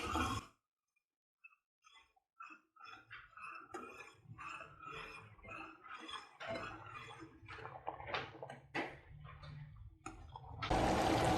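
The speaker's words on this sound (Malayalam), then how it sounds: "നമ്മുടെ പഞ്ചസാര പാനി ഇപ്പോൾ ഇവിടെ നന്നായിട്ട് തിളയ്ക്കുന്നുണ്ട്" Sugar syrup for homemade passion fruit squash boils in a pan, giving faint, irregular bubbling and ticking pops close by, with short quiet pauses between.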